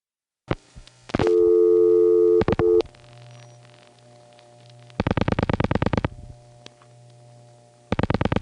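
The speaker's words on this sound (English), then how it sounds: "You'll notice that you start to hear the ring, and then the ring is gone, and then the ring comes back" On a 1977 long-distance dial-pulse call, the ringing tone on the line comes and goes: a loud buzzing ring, a gap filled with line hum and clicks, then the buzzing ring returns in repeated bursts.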